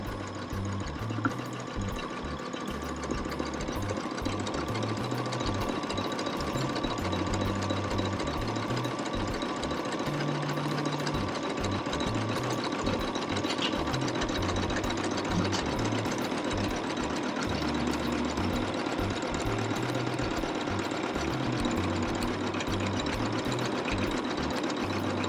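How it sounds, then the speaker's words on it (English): An embroidery machine stitching a zigzag satin border around an in-the-hoop appliqué, its rapid mechanical needle chatter and motor thumping running steadily and loudly throughout, with no talking. "now it's starting to do the zigzag for that"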